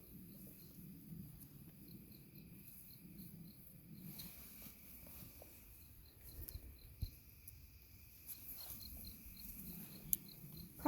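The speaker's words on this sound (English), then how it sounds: "I hear a cricket." Crickets chirping outdoors among leaves after sunset, a faint, regular pulsing trill repeating steadily in quiet surroundings with soft ambient noise and no talking.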